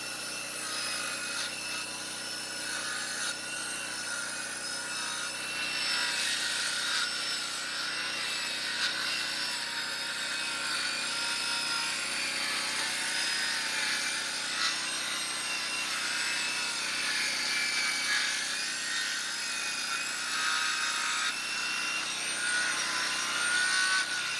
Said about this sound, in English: I got a more precise cut with the skill saw than the Poland chainsaw.